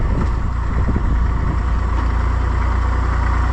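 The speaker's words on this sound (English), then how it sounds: "The little tractor is working very, very hard." A small tractor engine labours hard under load while unloading on a cattle farm, a steady close low rumble that holds without pause and with no talk.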